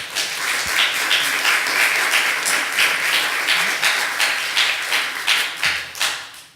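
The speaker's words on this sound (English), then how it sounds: "If we could just have a round of applause for everyone." Audience at a Law Day panel gives a round of applause, dense clapping that holds steady and then thins out into scattered claps before fading.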